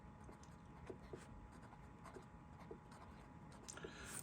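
A Montblanc 224 piston-filler fountain pen with a long, stiff nib scratches faintly across paper, with soft irregular ticks and strokes close by in a quiet room.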